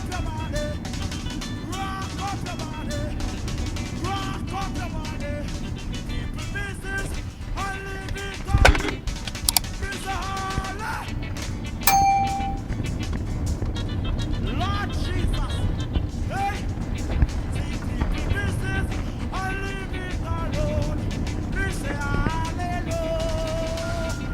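A car drives at moderate speed up Main Street in Ocho Rios, Jamaica, with steady road and engine noise inside the cabin, occasional bumps and a brief tone over the continuous hum.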